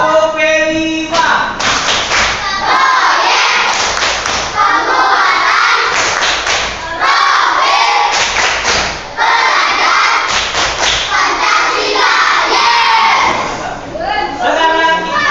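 Primary school pupils in a classroom clap together in a rhythmic routine, sharp claps in repeated patterns with chanting voices and children calling out, loud and close throughout.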